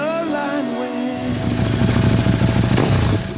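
Motorcycle engine revving hard on a DynoJet dynamometer, rising from a steady whine into a loud, rough, climbing roar, close and continuous without talk.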